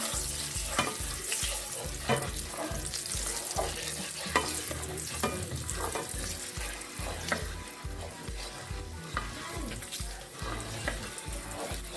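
Curry powder frying in hot oil in a pot for Jamaican curry goat, a close continuous sizzle with rhythmic stirring scrapes and knocks repeating through the whole stretch, no voice over it.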